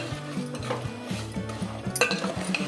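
Jaggery melts in water in a pot on a stove over a medium flame while being stirred, giving repeated scraping and clinking of a utensil against the pan at an even pace.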